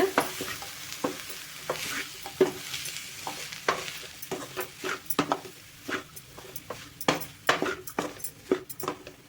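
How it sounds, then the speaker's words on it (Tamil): Raw banana podimas being stirred in a pan over a low flame, with a steady run of scraping and stirring strokes and a soft sizzle beneath, close and moderately loud, with no talking. "எல்லாமே போட்டுட்டு நல்லா கலந்து விட்டுக்கோங்க அடுப்பை வந்து சிம்மில் வச்சுட்டே கலருங்க"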